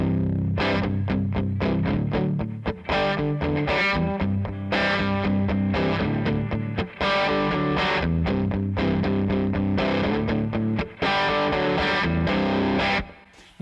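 Loud, driven Les Paul electric guitar through a cranked amp with pedals off and reverb on, playing big, aggressive strummed rhythm chords in continuous bursts with brief stops between phrases, no talking.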